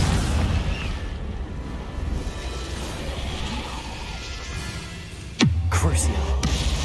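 A Confringo blast spell in Hogwarts Legacy bursts as a single loud, booming explosion near the end, after steady game ambience, with a voice speaking in the scene.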